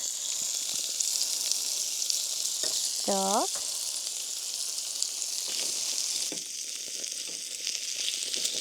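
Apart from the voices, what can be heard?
food sizzling while frying in pan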